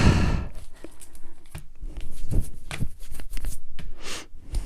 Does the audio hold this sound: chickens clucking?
no